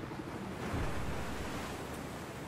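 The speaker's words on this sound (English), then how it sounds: "Canby guy here enjoying the waves" Ocean waves on a multiplayer shooter game map give a steady, broad wash of surf and wind that rises slightly near the start and holds at a constant, moderate level with no voices.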